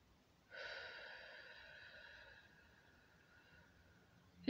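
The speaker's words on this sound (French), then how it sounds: "vous soufflez" A long, soft breath blown out during guided breathing, one faint airy exhale lasting about two seconds and slowly fading in a quiet room.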